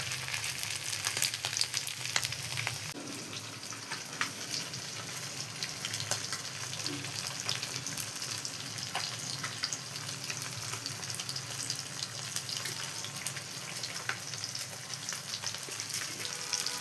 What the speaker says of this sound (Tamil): மீன் வறுவல் ரெடி ஆகிட்டு எல்லாம் வெந்துருச்சு வரும்.